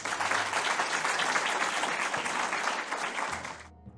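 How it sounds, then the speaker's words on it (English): Steady, full audience applause at a family health clinic's 20th anniversary event, many hands clapping continuously, then cutting off sharply near the end. "I think that deserves a round of applause"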